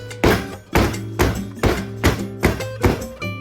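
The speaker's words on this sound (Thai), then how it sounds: "ใช้ไม้พายคนเพื่อไล่อากาศแล้วก็เคาะเบา" A 7 by 7 by 2 inch parchment-lined pan of banana sponge cake batter is knocked lightly to release air, seven even, close thumps at a steady pace with no voices.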